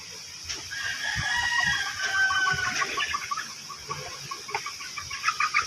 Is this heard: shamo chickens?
yes